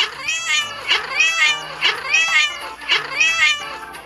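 Cats in the Cat Evolution video game meow over and over in a steady repeating rhythm, four clear calls close and bright, with no talking.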